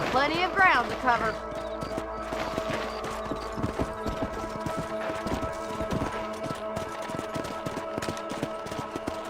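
Steady clip-clop of horse hooves in the video game Red Dead Redemption trots along at an even rhythm, with a short burst of voice at the start and a low background hum.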